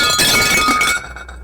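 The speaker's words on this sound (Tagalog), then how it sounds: "magulat sa malakas na tunog ng babasaging nahulog sa sahig" A glass object drops and shatters on a hard floor, a loud burst of bright breaking and tinkling shards that cuts off abruptly into a faint fading rattle.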